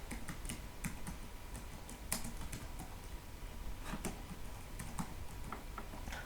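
Keys clatter as a book title is typed on a computer keyboard while entering a citation in Microsoft Word, a quiet, uneven stream of soft clicks with a few sharper taps over faint room noise.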